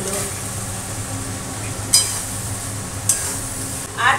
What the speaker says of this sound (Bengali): এইবার দিয়ে দিচ্ছি এই লোটে মাছগুলো